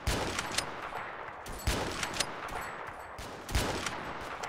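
Rapid automatic gunfire from a quad launcher rifle in the video game Ravenfield, a dense rattling stream of shots with a few heavier blasts recurring about every two seconds, loud and continuous with no speech.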